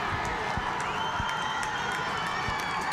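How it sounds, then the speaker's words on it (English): A high school football crowd at a district championship game cheers and roars steadily from the stands, a dense sustained wash of voices with scattered shouts and claps. "And you can hear the Oil City crowd."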